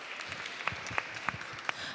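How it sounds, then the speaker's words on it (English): Faint, scattered hand claps from a small conference audience, a few sharper claps standing out against a soft background murmur. "Let us invite them with a big round of applause."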